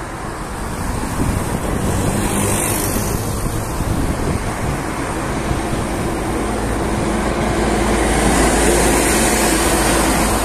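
Road traffic noise in Salalah, Oman: a loud, steady roar of passing vehicles with broadband wind-like rushing throughout, no clear pauses.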